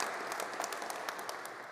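An audience applauds the founders at a startup pitch competition's Berlin regional final, steady crowd clapping that holds at an even level throughout.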